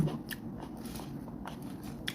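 Someone bites into sweet, juicy tomatoes, with close, soft crunching and wet chewing in small irregular bursts against a quiet background.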